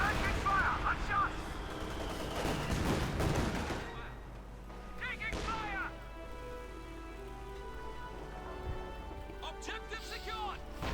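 Gunfire from the Company of Heroes 2 video game crackles in dense bursts, loud at first and then thinning into sporadic shots over a background rumble, with a commentator talking throughout.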